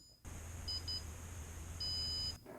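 Electronic beeps from a 3DRudder foot-operated mouse: two short double chirps, then one longer steady tone, high and clear over a constant low hum.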